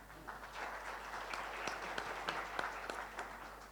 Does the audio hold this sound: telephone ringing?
no